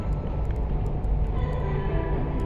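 A steady low rumble of a train rolls on continuously, with faint metallic clicks above it and no voices.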